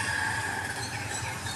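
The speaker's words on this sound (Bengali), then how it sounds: "সাথে রাস্তার গাড়ি ঘোড়ার শব্দ" Road traffic makes a steady, continuous rumble with faint higher whine and hiss, no distinct individual vehicles standing out.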